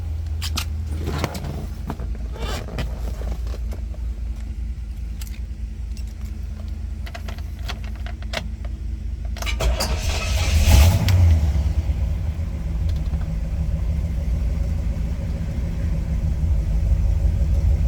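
A 1967 Pontiac GTO with its numbers-matching 400 V8 sits idling in a low rumble, then around ten seconds the engine catches and surges louder before settling into a steady, fairly close idle with no talking.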